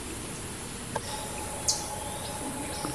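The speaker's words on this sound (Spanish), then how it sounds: "Escuchamos los cantos de las aves." Birds calling in the Peruvian jungle, with a few short, distinct chirps standing out over a steady wash of insect and forest ambience.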